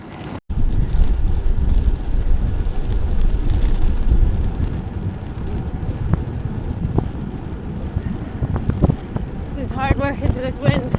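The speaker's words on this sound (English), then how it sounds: "Hard work into this wind." Strong headwind roars steadily into the microphone on a cold solo bicycle ride along quiet roads, a loud continuous rumbling buffet with faint road noise and a few brief clicks near the end.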